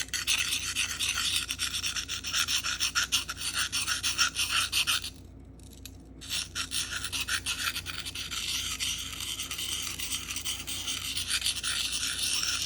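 A knife blade rubbed along a Sharpal diamond field sharpener in steady rhythmic strokes, close and gritty, with a brief pause partway through before the rasping resumes; no talking.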